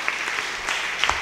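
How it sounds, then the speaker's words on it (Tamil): Brief burst of audience applause at a Tamil Jubilee Year 2025 church retreat, moderate clapping from a gathered crowd. "கைதட்டுங்க அந்த அம்மாவுக்கு"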